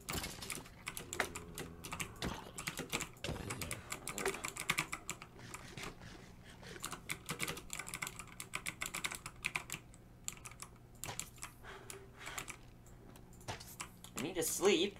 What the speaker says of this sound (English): you might notice that my keyboard sounds a little different